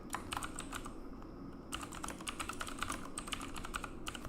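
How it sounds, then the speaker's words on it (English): Steady typing on a computer keyboard, a fast run of close, crisp key clicks with brief pauses, heard alone in a quiet room. "I got completely quiet because I wanted to focus on typing"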